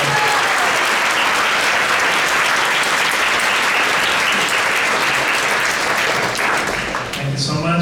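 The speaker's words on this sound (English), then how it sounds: "Let's give a big round of applause for." A large audience gives a big round of applause after a Makar Sankranti lecture at a temple, dense continuous clapping that holds loud and steady throughout, with a brief voice near the end.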